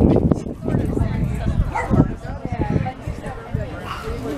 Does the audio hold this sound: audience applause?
no